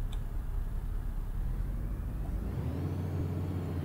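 A bus in a bus simulator video game pulls away, a steady engine rumble that deepens into a lower drone as it moves off, with a short hiss near the start and no talking.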